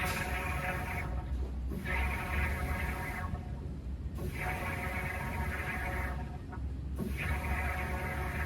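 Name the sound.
air bubbling out of a car's gas tank filler neck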